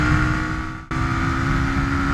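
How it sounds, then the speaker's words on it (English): Suzuki DR350S motorcycle engine drones steadily under load, then briefly cuts out with a sharp dip and stutter before catching again and carrying on, close and loud. "See right there, you could just hear the motor kind of stutter."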